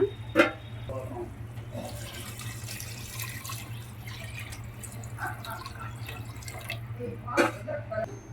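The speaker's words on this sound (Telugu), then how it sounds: "ఇప్పుడైతే వాటర్ అయితే యాడ్ చేసుకుందామండి" Water splashes and trickles into a cooking pot of rice for tomato pulao, with a couple of sharper drips and a steady low hum underneath.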